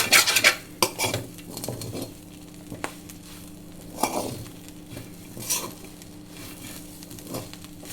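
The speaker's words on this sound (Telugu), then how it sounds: "ఇప్పుడు కలబెట్టుకొని ఇట్లా ఇంకా స్టవ్ ఆపేసుకోవచ్చు." Spoon scraping and clattering against a pan while stirring drumstick leaf fry with coconut chili powder, several sharp metallic knocks and scrapes spaced irregularly over a faint background hum.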